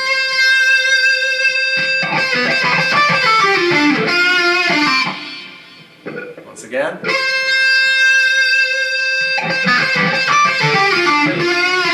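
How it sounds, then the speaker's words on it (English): An electric guitar with heavy distortion plays a riff, loud and sustained with a brief break in the middle where a voice speaks before the riff resumes. "So it sounds like this with distortion."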